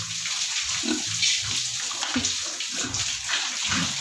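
A running water pump fills containers with water outdoors, giving a steady rushing, splashing flow that continues throughout at close range with no talk.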